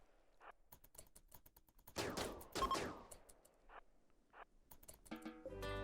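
Enemy gunfire in the video game RimWorld, heard as a scatter of sharp, clicky shots and short bursts, with a denser, louder volley in the middle and a buzzy electronic tone near the end.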